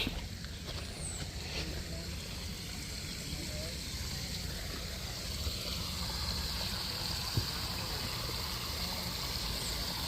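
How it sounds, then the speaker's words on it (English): Steady running water flows continuously at a moderate, even level, a broad wash of sound with no pauses. "Here's the sound of water."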